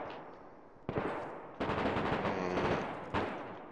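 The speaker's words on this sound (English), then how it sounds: "Is that you with a shotgun outside" A shotgun is fired outdoors, three sharp blasts at irregular intervals, each with a decaying echo. They sound faint and distant, with no talking.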